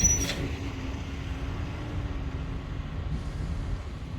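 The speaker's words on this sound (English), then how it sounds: "This is gonna be a loud place to sleep if these container trucks keep going all night." Container trucks rumbling past a truck stop at night, a steady low roar with a droning engine tone that stays close and constant throughout.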